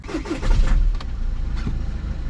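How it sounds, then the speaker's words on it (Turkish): A BMW F10 car engine, left unstarted for months with a weakened battery, cranks with a few quick starter pulses, then catches and settles into a steady, close idle rumble. "Şimdi buna da bir marş basalım."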